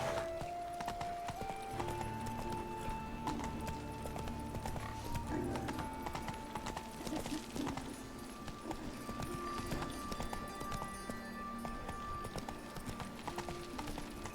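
Geralt's horse gallops in The Witcher 3, its hooves beating out a steady, continuous clip-clop over sustained background music, with an occasional faint whinny.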